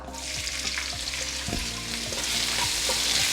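Onions fry in hot oil in a pan while making coconut milk pulao, a dense continuous sizzle with soft stirring knocks, close and fairly loud, without speech.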